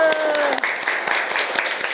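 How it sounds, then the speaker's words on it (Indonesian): A classroom audience claps during a university teaching-practice session after a student group presents, a short burst of dense, steady clapping with voices mixed in. "Oke, tepuk tangan dulu"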